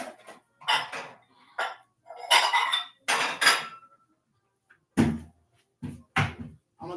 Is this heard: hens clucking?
no